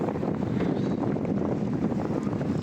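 Wind blows outdoors where a group has parked and tied down their motorbikes on a tour of North Bengal, a steady close buffeting rush against the microphone.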